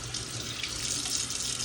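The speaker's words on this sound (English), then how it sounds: "Like, I'm washing my hands before I" Tap water runs steadily into a kitchen sink as hands are washed after handling raw steak, a close, continuous hissing splash with no talk.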